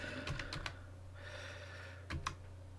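Typing on a computer keyboard in a terminal on Ubuntu 18.04, short bursts of quick light key clicks separated by a pause, close and fairly quiet over a faint steady hum.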